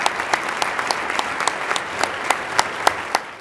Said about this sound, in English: These champions received their well-deserved round of applause